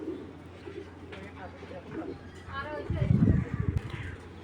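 Racing pigeons coo in a low, throaty burble, a soft murmur early on swelling into a louder rolling coo near the end, heard up close in a loft amid faint background noise and a voice.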